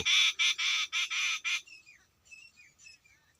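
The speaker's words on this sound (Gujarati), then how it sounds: "બુલબુલ ભાઈઓ પણ આવી ગયા છે અને લેલાડાના પક્ષીઓનો કલરવ" Close, loud bursts of bulbul chirping in quick succession, followed by softer, thinner tweets and whistles trailing off.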